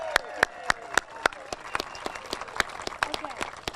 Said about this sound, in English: So let's have a big round of applause for that.